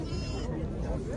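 Sheep ewes bleating at a livestock market amid people talking, with a short wavering bleat near the start.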